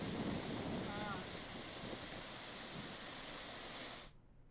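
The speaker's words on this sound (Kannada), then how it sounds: "ಭಾರತದ ನಯಾಗರ ಅಂತಲೇ ಪ್ರಖ್ಯಾತಿ ಪಡೆದಿರುವಂತಹ ಜಲಪಾತ ಜೀವ ಕಳೆ ತುಂಬಿದೆ" A steady, loud roar of rushing water from Gokak Falls in monsoon flood fills the air without a break, then drops away abruptly near the end.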